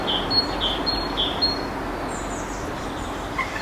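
A chiffchaff sings outdoors in summer, its high repeated notes coming in short bursts against steady background hiss, fairly faint and distant.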